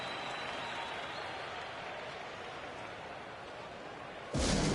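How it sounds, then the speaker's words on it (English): Steady, broad wash of crowd applause filling a large arena at a Chicago Bulls versus New Orleans Pelicans basketball game, holding evenly throughout before a sudden louder burst at the very end. "please give a big round of applause"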